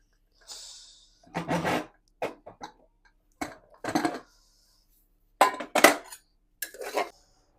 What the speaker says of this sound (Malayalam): ചട്ടി ഇങ്ങോട്ട് മാറ്റി വെച്ചോ എന്നിട്ട് നമുക്ക് നമ്മളെ ബീഫ് ഒന്ന് തുറന്ന് നോക്കാം